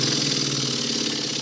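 Alexander Karnes engine running in a workshop, a steady, loud, continuous drone with a fine rapid pulsing and a faint rattle, close by and with no one speaking.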